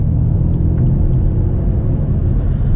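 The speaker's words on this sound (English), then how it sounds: "We'll still have our exhaust sounds" Engine and exhaust of a car underway, a loud, steady low rumble with no breaks.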